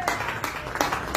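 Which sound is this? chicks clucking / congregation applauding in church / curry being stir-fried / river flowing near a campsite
congregation applauding in church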